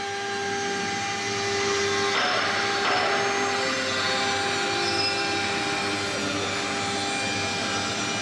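A 3D rotary 12-spindle wood carving machine running steadily, a loud sustained whine with high tonal hums and a brief shift in pitch midway, continuous throughout.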